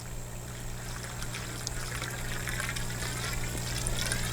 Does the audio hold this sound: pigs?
no